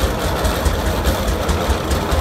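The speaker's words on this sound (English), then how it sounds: "Another one of our rare tractors is the Alton Taylor. That is a 1915," A 1915 Alton Taylor antique tractor engine running in a parade, a loud low chugging with a regular, rapid knocking rhythm held steady throughout and no voices.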